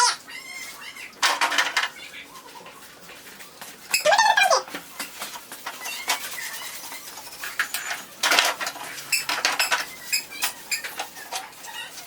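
A dirty kitchen stove is scrubbed and wiped in bursts of scraping and rubbing, with clinks of metal pans and utensils, intermittent and close, with a bird chirping faintly in between.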